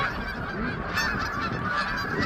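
A flock of geese honks continuously on a farm in cold winter weather, many overlapping calls forming a loud, dense chorus that carries across open ground.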